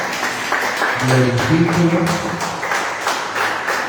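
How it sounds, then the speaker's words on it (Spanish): A church congregation applauding, a dense wash of clapping that carries on steadily throughout while someone speaks over it. "Denle un fuerte aplauso al Señor."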